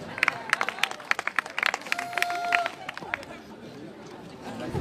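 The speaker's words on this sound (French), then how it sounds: "On peut applaudir le futur peut-être maire de Lorient." Applause from a crowd at a theatre occupation assembly in Lorient, sharp scattered claps over chatter and a voice, fading into murmuring.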